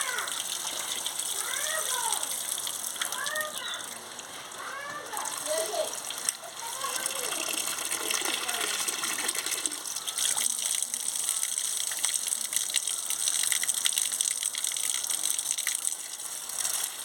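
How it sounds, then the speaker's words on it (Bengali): Potatoes and ridge gourd are rinsed under steadily gushing water, a continuous splashing rush that runs the whole time, with someone talking over it at the start. "ভালো করে আমি একটু ধুয়ে নিচ্ছি আলু আর ঝিঙে"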